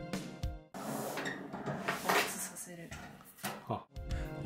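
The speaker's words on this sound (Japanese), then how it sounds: "お聞きいただいた通り、レールの音も引き出しが閉まる時の音もとても静かでした。" A white steel office wagon drawer on double suspension rails slides open and shut, producing soft rolling rail noise and light closing knocks, quiet and close, mixed with other faint handling sounds.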